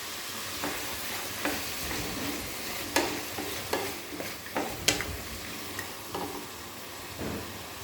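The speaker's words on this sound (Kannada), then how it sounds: "ಬಟಾಣಿ ಹಾಕ್ತಾಯಿದ್ದೀನಿ." Green peas go into a pan of frying vermicelli pulao, and a soft sizzle runs under a series of distinct spoon scrapes and clacks against the pan, with no talking.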